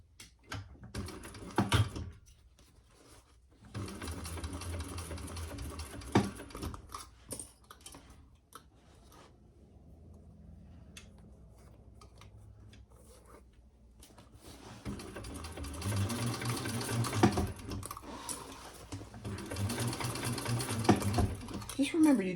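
A sewing machine stitches fabric in several bursts of rapid whirring and ticking, stopping in between, with a quieter stretch in the middle and someone talking at times over it.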